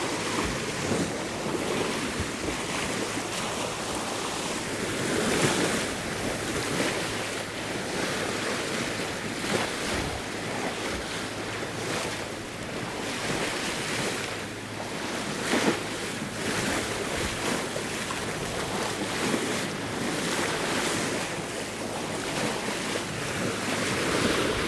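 Sea waves wash and surge continuously around a sailboat rounding the Mull of Kintyre, with the wind running with the tide, the steady roar mixed with buffeting wind noise on the microphone and no voices.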